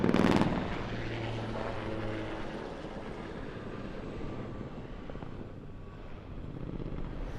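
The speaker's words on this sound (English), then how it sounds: "we'll see the helicopter coming into the hover" A Swiss Air Force Super Puma helicopter drones steadily at a distance at an airshow, its rotor and engine noise a continuous rumble that fades slightly, with a brief louder burst at the start.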